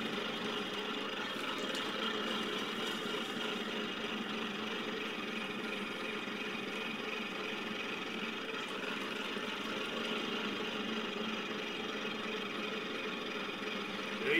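A potter's wheel spins steadily through black clay mixed with stoneware being thrown, a continuous low, even hum with no talking.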